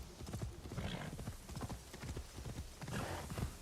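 Horse hooves clip-clop steadily in Assassin's Creed Shadows, a brisk rhythmic trot of repeated hoof strikes, moderately close, with no talking over it.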